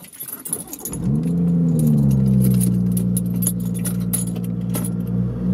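A modified BMW M240i starts and settles into a steady idle, its engine note rising then holding as a deep, even rumble close by, with light rattling and clicks on top.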